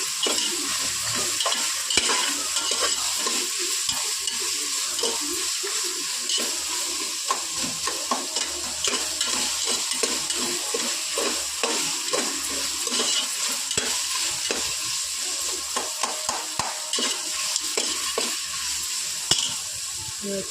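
Onions sauté and sizzle in a pan for chicken biryani, a steady frying hiss with frequent scraping stirs of a spoon, close and continuous.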